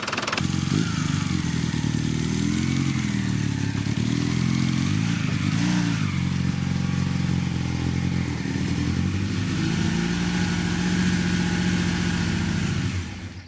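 A Honda 400N motorcycle engine runs steadily close by, a continuous even drone with slight rises in pitch and no talk over it.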